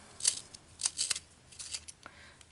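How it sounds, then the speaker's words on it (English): Several short, crisp scraping bursts of a colored pencil being turned in a small sharpener, close and quiet, with brief pauses between strokes. "I'll show you how well they sharpen. So I'm just going to sharpen it."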